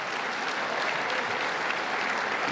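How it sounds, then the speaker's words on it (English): Audience applause for a president at a New York City budget presentation, a dense, steady wash of clapping from a large crowd that fills the whole stretch without letup. "let's give him a round of applause"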